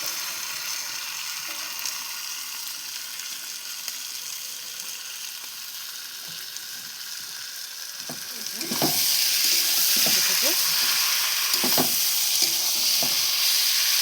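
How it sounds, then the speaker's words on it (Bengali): Spice-marinated chicken frying in oil for kosha, a soft steady hiss that swells into a louder, brighter sizzle partway through, with occasional stirring scrapes. "মিক্স করা মাংসটা, মশলা দিয়ে মাখানো মাংসটা এর মধ্যে দিয়ে এটাকে কষাবো।"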